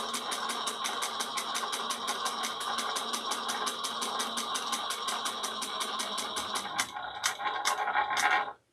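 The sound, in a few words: sewing machine stitching a two-tone strap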